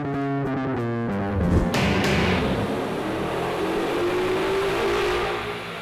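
An automatic 2011 Ford Mustang GT V8 runs up on a dyno, loud engine roar climbing steadily through the revs over several seconds after a brief rough start, with no talking.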